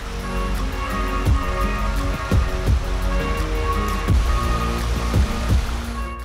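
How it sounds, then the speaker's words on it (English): Waterfall in a Norwegian nature reserve in autumn roars as a constant loud broadband rush of falling water, close by, with occasional sharper splashes or thuds. "Found another impressive waterfall and thought we'd take a closer look."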